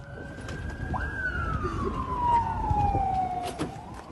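An ambulance siren in Marash wailing in a long, slowly falling tone that stays clear over distant street noise, with faint voices in the background.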